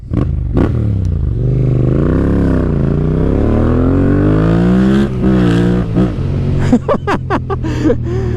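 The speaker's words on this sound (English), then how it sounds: "I have fallen in love with the sound of this bike" A motorcycle engine runs loud and close while riding, a deep throbbing rumble that rises and falls with throttle, ending with several sharp revving blips.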